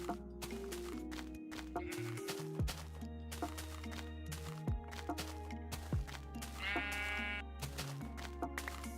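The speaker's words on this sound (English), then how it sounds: "Brown sheep. I don't see that often." Sheep bleat in Minecraft Beta 1.7.3 among layered game music and ambient tones, several short bleats standing out over the steady background, with wool being sheared from a brown sheep.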